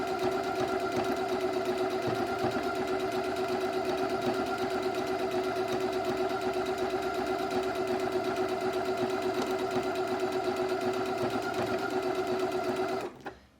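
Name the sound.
domestic sewing machine stitching ajour napkin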